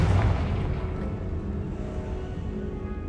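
A Confringo blasting spell goes off in Hogwarts Legacy, a loud booming explosion at the start that rolls into a sustained low rumble and crackle, fading slowly over a few seconds with no voices.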